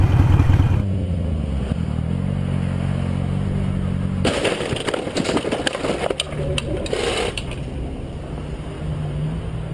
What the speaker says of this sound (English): One of the big reasons I got loud pipes, so if people aren't gonna see me, at least they would hear me.